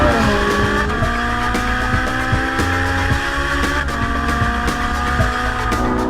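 A race car on a Las Vegas track accelerates hard out of a corner, engine roaring with rising pitch through quick upshifts, loud and close for the whole stretch, with no voices.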